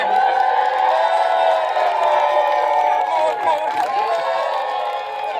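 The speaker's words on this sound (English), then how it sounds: "Everyone start cheering" An audience cheers and whoops together in a big, sustained swell of many voices that stays loud and eases off slightly near the end.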